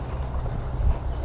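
A horse walks during a riding lesson, its hooves making soft, low, rhythmic thuds on the ground, with a voice faintly present in the background.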